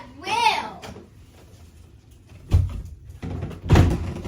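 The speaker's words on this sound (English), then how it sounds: "Close my door. I will." Household door being pushed shut with two soft thuds, near and moderately loud, following a brief spoken phrase earlier in the moment.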